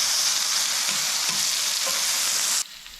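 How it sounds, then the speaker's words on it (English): Small yabby (crayfish) toppers sear in a hot pan, giving a loud, continuous frying hiss that stays even before suddenly falling away at the end. "Give him a few minutes to rest while we sear up our little yabby toppers."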